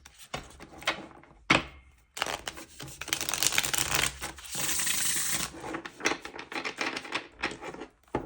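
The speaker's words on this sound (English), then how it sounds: "I'll do one more shuffle." Quick riffling bursts of cards being shuffled, a few short flicks followed by a longer, sustained riffle, close and fairly quiet.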